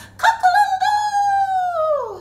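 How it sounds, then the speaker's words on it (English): A single long rooster crow rings out loud and close, rising sharply and then holding before it trails off at the end. "I am the rooster in the morning, I wake up the whole farm"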